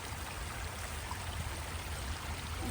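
A stream and small waterfall on the Wales coast path near Porthcawl make a soft, continuous rushing hiss, steady and unbroken with no voices.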